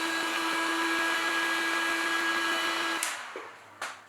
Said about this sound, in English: using a heat gun to dry the pot before lifting it away.